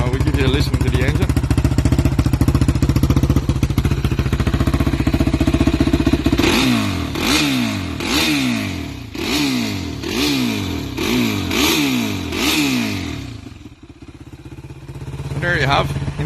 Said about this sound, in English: So we'll give you a listen to the engine.